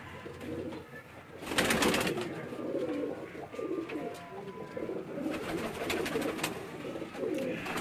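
Pigeons coo steadily inside a loft, a low soft murmur from several birds, with a few louder rustling bursts in between.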